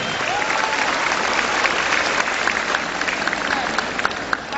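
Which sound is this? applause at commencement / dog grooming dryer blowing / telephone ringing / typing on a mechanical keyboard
applause at commencement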